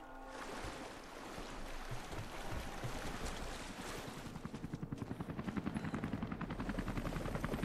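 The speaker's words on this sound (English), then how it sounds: "The helicopter's already moving in." Helicopter in the video game Rise of the Tomb Raider, a broad roaring wash that builds as the aircraft closes in, with rotor chopping growing clear and rhythmic toward the end.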